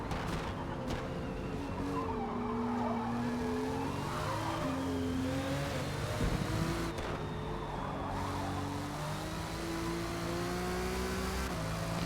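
Race cars roar steadily in Forza Motorsport, with engine notes rising and falling through shifts and a brief tire squeal, loud and continuous with no talking.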